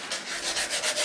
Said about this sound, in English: So we're still sanding out the cylinders